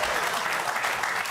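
A studio audience claps and cheers in a dense, steady burst of applause that fills the room.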